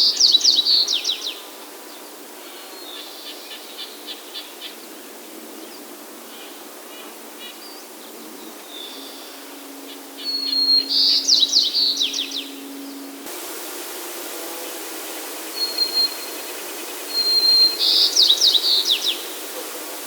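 Bird singing, captured through a Scarlett mic preamp, with short bursts of bright, chirpy high notes repeating every few seconds over a hissy, noisy background and a faint low hum.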